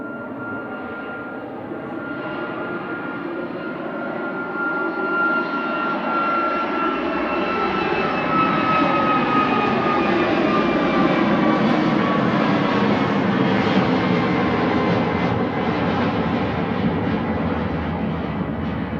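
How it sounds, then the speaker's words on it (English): Ryanair Boeing 737 jet on its takeoff roll at Manchester Airport, engines spooling up into a loud, sustained roar with whining tones that sweep and slowly fade as it departs. "Ryanair 1155 to Berlin, departing now 9H VUM. It's going to go vroom at max 8200."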